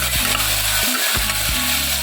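Onions sautéing in ghee with whole spices such as cardamom for ghee rice: a loud, steady sizzling hiss close by, broken by a few scraping stirs of the pan.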